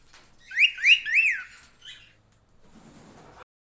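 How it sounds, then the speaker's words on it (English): A cockatiel lets out three sharp rising squawks in quick succession, then a few softer calls, fairly close and alone, with faint rustling toward the end. "Cockatiel, cockatiel."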